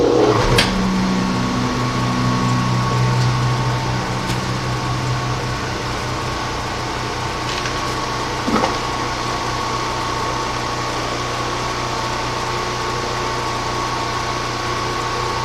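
A rotary phase converter runs in a workshop beside a lathe and mill, giving a steady low electrical hum and drone that holds evenly throughout, with a couple of brief clunks near the start and midway.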